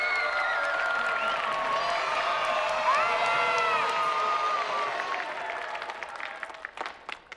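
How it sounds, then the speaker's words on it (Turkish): A crowd of spectators in a fantasy contest cheers and applauds for the Habeas choir, loud whoops and shouts over steady clapping that thin out and fade near the end. "favoriniz 3 numara muhteşem Habeas Korosu'ysa alkışlarınızla bunu gösterin"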